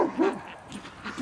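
A dog gives a few short, close yips and whimpering barks in quick succession, outdoors on the first day of snow with ducks nearby.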